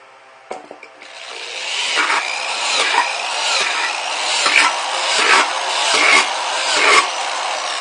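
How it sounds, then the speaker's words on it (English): A drill bores holes into the bottoms of aluminum soda cans with a continuous gritty whirring that surges several times as the bit bites in, preceded by a few sharp knocks. "now I'm going to show you how I'm drilling the holes in the bottom of these cans here"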